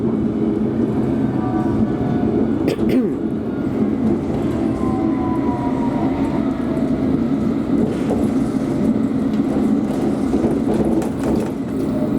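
A train rumbles steadily along the track, a constant low roar with faint squeals and occasional clanks throughout.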